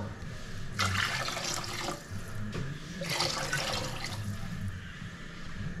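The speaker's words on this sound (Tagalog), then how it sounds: "Lagyan natin ng tubig." Water splashes into a cooking pot holding ground meat for a soup, pouring in a couple of uneven surges with a steady trickle between them, fairly close and moderately quiet, with no talking.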